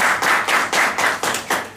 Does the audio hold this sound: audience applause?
yes